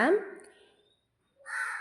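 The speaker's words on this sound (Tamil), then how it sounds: "நான் எப்போ பேசினாலும் இந்த காக்காவே டிஸ்டர்ப் பண்ணும்" A crow caws twice nearby, a harsh call at the start and another after a short silence, loud and alone.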